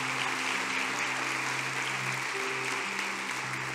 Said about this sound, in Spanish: A darle un aplauso al Señor.